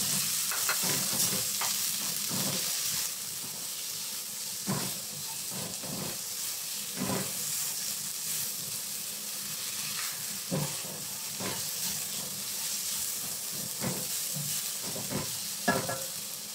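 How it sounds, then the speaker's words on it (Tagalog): Carrots and green beans stir-fried in a pan for a pork noodle dish, a steady sizzling hiss broken by repeated scraping stirs of the spatula, close and fairly loud with no talking. "Kapag na-fry na natin yung ating carrots, maglagay tayo ng bagu beans. Fry din natin yan."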